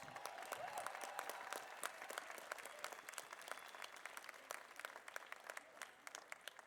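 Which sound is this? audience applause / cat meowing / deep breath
audience applause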